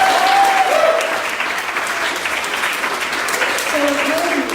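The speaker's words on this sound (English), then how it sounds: "Please give yourselves a hand clap for coming out." Dense, steady applause from a comedy show audience fills the room, with sustained clapping and a few whoops, loud and close throughout.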